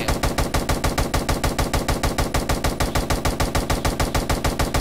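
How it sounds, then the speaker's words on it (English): Rapid automatic gunfire in a Roblox game, a fast, even stream of sharp shots at about seven per second, loud and close, continuing without a break. "And shooting him."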